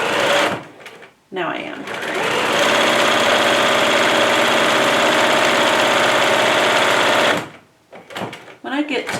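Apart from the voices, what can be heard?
sewing machine stitching fabric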